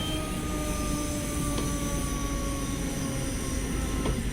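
Class 314 electric train in Train Sim World 2 on the Glasgow Cathcart line, motoring while braking: a steady, continuous traction whine with tonal hums and rumbling wheel noise, held at even loudness throughout.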